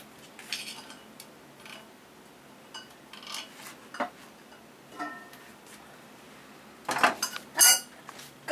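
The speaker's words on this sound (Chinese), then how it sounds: "那我们现在就可以把锅盖掀开" Lid lifted off a pot of roasted sweet potatoes, a scatter of faint metallic clinks and scrapes followed by a louder cluster of clatters near the end, close by in a quiet kitchen.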